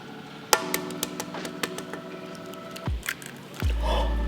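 An egg cracked against a hard edge in a kitchen, a sharp crunch followed by a second crack and a short knock, close and fairly loud with no speech.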